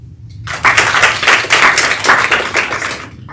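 An audience gives a round of applause at a conference session, dense steady clapping from many hands close by that starts abruptly and carries on for several seconds.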